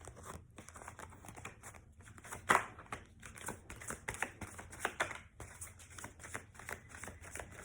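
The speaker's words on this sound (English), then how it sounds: "I'm not shuffling the cards good enough" Playing cards shuffled by hand indoors, a run of quick riffling flutters, slaps and crinkling clicks in short irregular bursts, fairly close and quiet.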